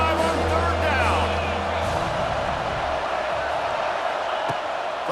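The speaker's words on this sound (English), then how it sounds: "The Buckeye crowd alive on 3rd down." Ohio State Buckeye home crowd in College Football 26, a steady roaring stadium swell on third down, with a commentator talking over it throughout.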